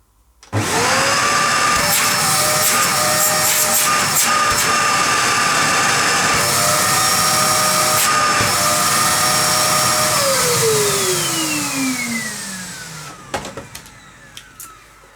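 A Dyson DC02 bagless cylinder vacuum cleaner starts up and runs at a loud, steady whine with no talk, then spins down gradually toward the end, finishing with a few clicks and knocks.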